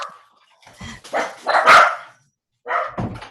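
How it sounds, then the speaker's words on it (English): A dog barks close by in several sharp bursts, some of them stretched into whining yips, with short silent gaps between them. "your dog's barking at you."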